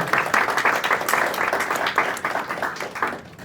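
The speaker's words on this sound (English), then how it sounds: "Please give a big round of applause for Shatnam Singh." An audience at a community declamation contest claps for a judge being introduced, a dense, even burst of applause at fairly close range that thins slightly as it ends.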